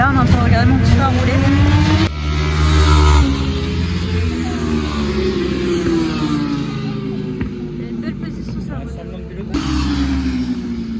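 500cup racing motorcycles circle the Croix-en-Ternois track, engines revving and passing with rising and falling whines, heard from trackside with people talking over the noise.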